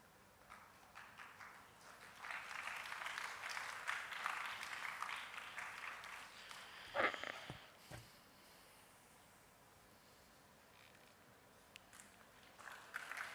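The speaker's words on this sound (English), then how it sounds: "Please give a round of applause for ma'am." An audience claps after a guest speaker is felicitated at an intellectual property workshop. The applause swells for roughly five seconds, then thins to scattered claps and a few thuds over quiet room tone.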